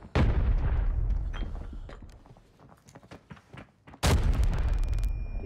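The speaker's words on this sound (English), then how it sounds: "More nades in." Grenade explosions in a video game sound as heavy, booming blasts. One hits loud at the start and decays over a few seconds with scattered cracks, then a second close detonation bursts near the end.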